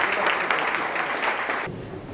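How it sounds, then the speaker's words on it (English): An audience at a coding bootcamp demo day in Tokyo applauds a presenter coming on stage, a steady, dense wash of many hands clapping that cuts off abruptly near the end. "please give him a round of applause"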